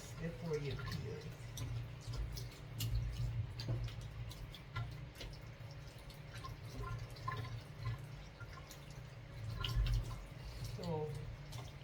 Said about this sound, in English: make sure you wash it clean and nice before you peel it